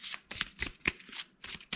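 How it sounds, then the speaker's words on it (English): Deck of target cards for the tabletop wargame Stuka Leader: Stalingrad 1942 being shuffled by hand, with crisp riffling bursts in a steady rhythm of about seven quick strokes, close and fairly quiet. "This target we'll put back in the deck, and we'll shuffle the deck back up."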